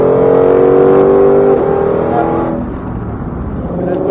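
A car's engine revs hard at full throttle on a track, a loud rising droning whine close up that briefly eases as the gear changes, then climbs again.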